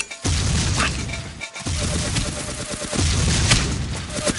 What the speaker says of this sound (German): Diese Explosion, ey, sehen so episch aus.